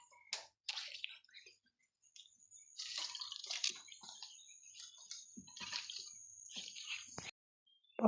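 Close-up splashing and dripping as papaya is washed in water, with squishy handling sounds, in short bursts separated by brief quiet pauses.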